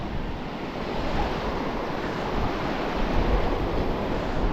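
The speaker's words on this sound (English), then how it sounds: "a bit of a wind in my face here." Steady wind roars against the microphone on the seashore at Folkestone Warren, with surf washing underneath in a dense, unbroken hiss and no talking.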